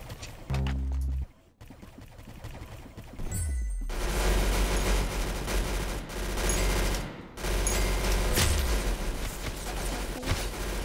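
Roblox shooter gunfire: dense bursts of rapid shots and blasts, loud and close, broken by short pauses and sudden cutoffs, with game effects mixed in and no talk.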